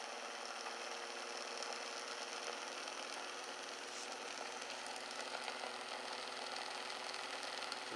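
A Bedini motor runs steadily with a constant whirring hum and faint rhythmic pulsing, faint and continuous with no talking.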